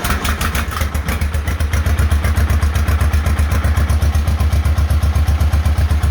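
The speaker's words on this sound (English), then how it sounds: "So you saw I tried to start it twice with the choke on and then shut the choke off, and she starts right up." A John Deere M tractor engine running after starting with the choke off; a loud, close, steady low putting idle with even rapid firing pulses and mechanical clatter throughout.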